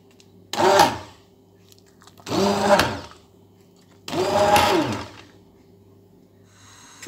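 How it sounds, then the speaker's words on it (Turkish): A blender purees cooked watermelon for jam in three separate whirring bursts of a few seconds each, loud and close, with quiet pauses between them. "Şimdi blenderdan geçireceğim."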